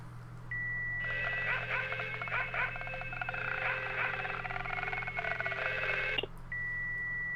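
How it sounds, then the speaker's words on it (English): An electronic telephone ring with repeated warbling trill bursts plays for about five seconds in the horror video game Ju-On: The Grudge, loud and close over a low steady hum, bracketed by single steady beeps. "speaking of Ring, ringing phone here"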